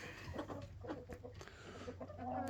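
Backyard chickens cluck steadily while being fed pumpkins, a flock of overlapping soft clucks and squawks close by, with no talk over them.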